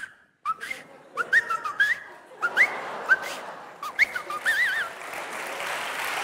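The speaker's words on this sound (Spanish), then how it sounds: "Hacen vibratas con el silbido." A mouth whistle with vibrato warbles through a rapid series of short wavering phrases, alternating with breathy pauses, in a room over a hushed background.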